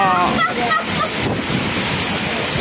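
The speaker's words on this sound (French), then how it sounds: "Là il pleut là" Heavy rain pours at El Saler beach near Cullera, a dense steady roar of rainfall and breaking surf filling the clip, with a voice speaking briefly at the start.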